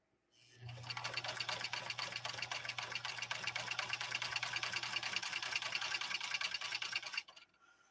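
Singer Centennial Class 15 sewing machine from 1949 stitching steadily at a fast, even rhythm for about six seconds, loud and close, starting and stopping cleanly with no talk.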